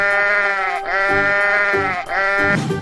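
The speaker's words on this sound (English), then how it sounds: "Sheep." Sheep bleat in a 3D animal video game: three loud, close, wavering bleats in a row, each a drawn-out nasal call with a short gap between, and no talk.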